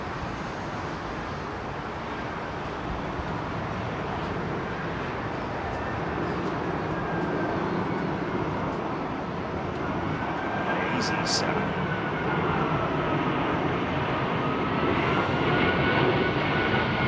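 An Airbus A380 at London Heathrow gives a moderate, distant jet engine roar that rises slowly and swells near the end, with faint tonal whines and a couple of brief clicks over it.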